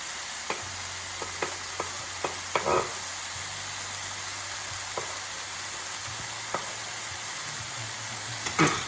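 Beef chow mein stir-frying in a pan, a steady sizzle broken by a string of sharp clicks and scrapes as the food is tossed and stirred, with a low hum running underneath.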